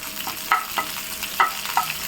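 Rose petals frying in ghee in a pan for chicken biryani, a soft steady sizzle with a few sharp scraping stirs of a spoon at regular intervals, close and fairly quiet, no talking.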